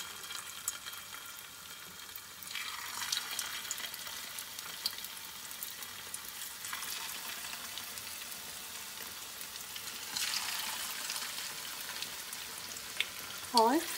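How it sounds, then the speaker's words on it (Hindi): Potato hash browns frying in hot oil in a pan, a steady soft sizzle with brief louder crackling bursts, heard close and alone. "अब हम लोग इनको फ्राई करते हैं।"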